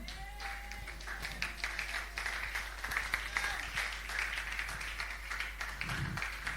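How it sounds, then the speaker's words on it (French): A church congregation at a consolation congress applauds for the word of the Lord, steady broadband clapping filling the room for several seconds with a faint voice and some tapping mixed in. "On acclame pour la parole du Seigneur."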